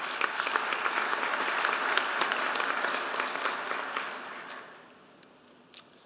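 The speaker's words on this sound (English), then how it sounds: "I'd like to ask you all a round of applause for these folks and all the work that they've done" An audience at a conference opening plenary gives a warm round of applause for the organizers, steady dense clapping that thins out and fades near the end, leaving a couple of stray claps.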